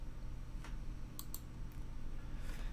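A computer mouse clicks a couple of times in quick succession, sharp and close, against a steady low background hum with no talking.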